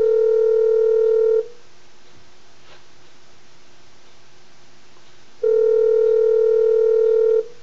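A steady telephone dial tone sounds after a dropped call on a Persian TV call-in show, on for about a second, silent for several seconds, then on again for two seconds, loud and flat.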